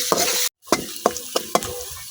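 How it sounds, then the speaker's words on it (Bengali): Spices with ground ginger and garlic fry in a pan, giving a loud close sizzle marked by about five sharp spatula scrapes and stirs, with a brief silent break near the start. "এখন আমি সবকিছু কিছুক্ষণ ভাজা নিলাম।"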